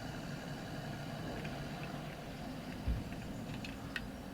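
A 75 horsepower tractor engine in Farming Simulator 22 on an old countryside farm, hauling up hills, gives a steady low idling rumble that runs unbroken throughout, with a brief thump near the end.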